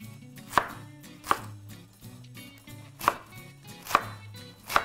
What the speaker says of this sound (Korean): 물기를 털어서 부추를 썰어주세요.